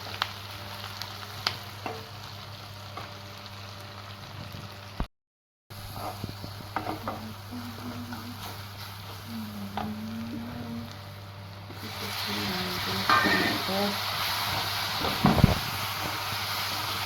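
Onions frying in a pan in a home kitchen, a steady soft sizzle with occasional stirring scrapes and clinks, no talking, the frying growing a little brighter and louder toward the end.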